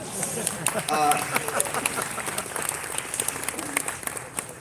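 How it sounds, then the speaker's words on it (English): Audience at a Xiaomi product launch claps lightly and scattered, a thin patter of hands under a voice talking over it, moderately distant. "Everyone can clap, but no worries."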